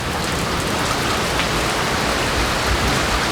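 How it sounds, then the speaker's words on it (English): Light rain falls steadily outdoors in Tennessee, a constant soft hiss of drops on surfaces with no voices and even loudness throughout. "Raining just a little bit then."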